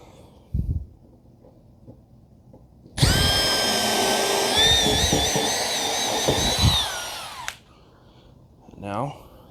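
A power drill drives a screw into a homemade cordless vacuum stand, whirring loudly and steadily for about four and a half seconds, its pitch dipping as it slows to a stop. Scattered knocks of handling come before and after it.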